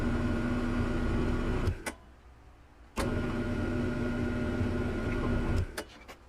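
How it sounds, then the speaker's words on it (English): Drill press running a 3/8 inch Forstner bit, a steady motor whine with a low grinding hum that cuts off briefly with a click, restarts, then stops again, with a few sharp knocks near the end. "then it's over to the drill press. All right, I have a 3/8 inch Forstner bit in the chuck."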